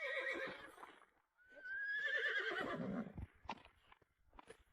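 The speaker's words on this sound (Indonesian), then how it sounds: "Ah, ada apa dengan kuda ini?" A horse whinnies loudly and shrilly twice in close succession, its second call rising, followed by a patter of hoofbeats and scuffling, with no speech.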